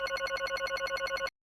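In the Danganronpa 2: Goodbye Despair video game, a phone's electronic ring trills in rapid regular pulses for about a second, then cuts off abruptly into silence.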